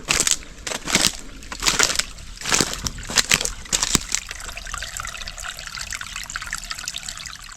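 Water flowing outdoors at an off-grid property, a close steady trickling and gushing with choppy louder surges early on, then settling into a smoother continuous stream.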